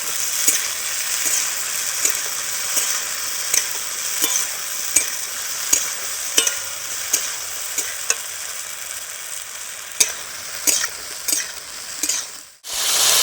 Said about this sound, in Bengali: এবার এই তেলে খুব ভালো করে আমি ভেজে নেব কুলটা।